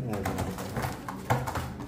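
Black Danish pigeons cooing in a loft, a steady low coo close by, with background voices and noise mixed in throughout.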